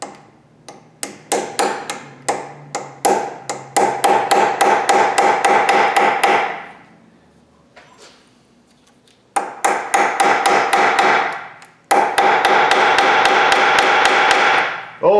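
Sharp hammer blows strike a Jeep Compass part to punch a hole in its middle, first spaced taps quickening into rapid steady pounding, then a pause and two more fast bursts, loud and close with no talk.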